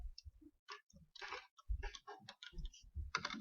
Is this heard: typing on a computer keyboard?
yes